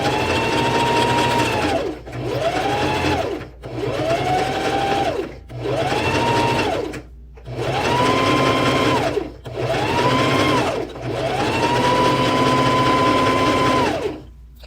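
A sewing machine stitches joggers in repeated runs of steady whirring, about seven bursts of a few seconds each with short pauses between, the longest run at the end, close and clear.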